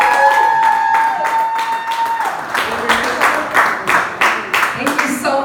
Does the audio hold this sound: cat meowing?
no